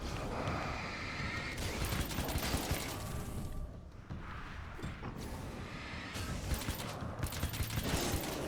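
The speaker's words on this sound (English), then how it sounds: "This nail gun's crazy." A nail gun fires in rapid continuous bursts in Alan Wake's American Nightmare, loud dense clatter with short pauses between strings of shots, over noisy game ambience.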